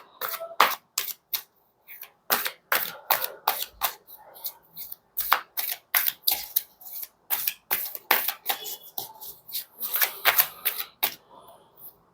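Tarot cards shuffled by hand in quick bursts of crisp flicking and slapping riffles, close and dry, paused briefly between rounds, with no voice over them.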